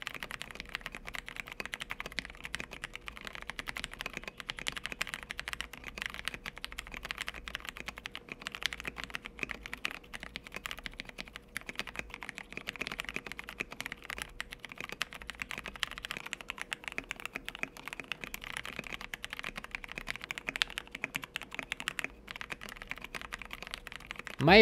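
Brown mechanical switches, broken in after about ten days of daily use, clack steadily under continuous fast typing on a keyboard, a soft even patter with no talking.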